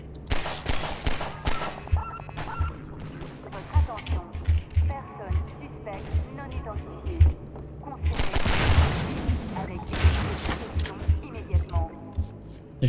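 Half-Life 2: Episode 1 combat with a flashbang and bursts of gunfire, dense rattling shots and impacts throughout, a louder flurry midway, while someone talks over the action.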